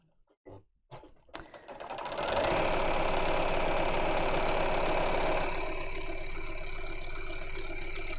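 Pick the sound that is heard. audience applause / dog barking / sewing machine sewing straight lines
sewing machine sewing straight lines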